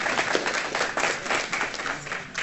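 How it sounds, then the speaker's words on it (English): An audience applauds panelists at a term limits panel event in Philadelphia, a steady wash of many hands clapping throughout, fairly loud and continuous with no clear break. "Please give them a round of applause."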